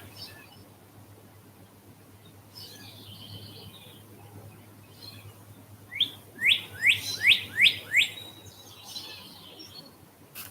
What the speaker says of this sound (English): Still have to hear the happy bird